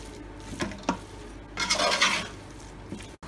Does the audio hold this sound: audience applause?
no